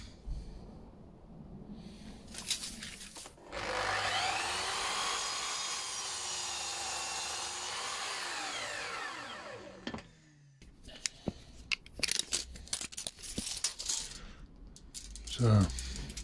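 Wood pieces for a radiator grill are cut with a power saw: a faint motor hum, then a steady whining cut lasting about six seconds that winds down, followed by scattered knocks and clatter of wooden pieces being handled.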